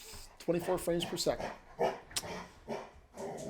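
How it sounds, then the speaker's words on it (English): A pet dog barks and yips in a string of short, close barks at irregular intervals, with a person talking over it. "And that's my dog."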